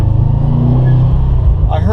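A Subaru WRX with an Invidia Q300 catback exhaust and downpipe gives a steady, deep bassy rumble at idle, loud and continuous, with a voice speaking briefly at the end.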